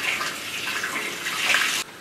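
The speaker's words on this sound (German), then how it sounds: "werde ich schon das Wasser einlassen" Water rushes steadily from a tap into a barrel being filled to cool a Tohatsu MFS 9.8 outboard motor, a loud continuous splashing hiss that cuts off abruptly near the end.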